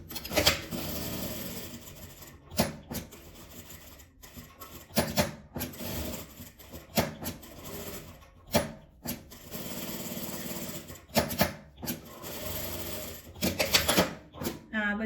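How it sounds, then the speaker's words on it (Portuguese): A sewing machine runs in short whirring bursts and longer stretches while stitching a seam around a small multipurpose fabric bag, close by, with some quieter pauses between runs. "Feito isso, eu vou passar uma costura aqui em volta."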